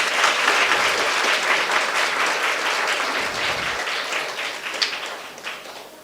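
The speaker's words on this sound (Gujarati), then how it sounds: "એટલે તમારા પોતાના માટે એકવાર તાળી વગાડ દો." An audience at K.K. Blind School claps for itself at a Gujarati film team's event. The applause is dense, loud and sustained for about six seconds, easing slightly toward the end.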